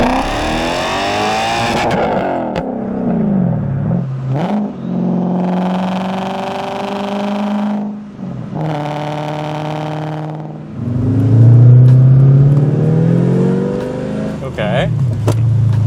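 A V8 engine swapped into an Audi revs up and down in several long, rising and falling sweeps, loud and close, with people talking in between.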